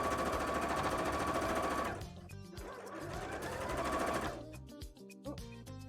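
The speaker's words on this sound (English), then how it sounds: "just need to sew that down" Sewing machine stitching fabric down on a handmade bra, a fast, loud mechanical rattle in two bursts with a short pause between, then brief clicks and handling noises.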